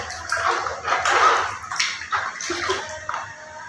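Water splashes and sloshes in a bathtub during a bath, with a run of irregular, close splashes and drips and no talking.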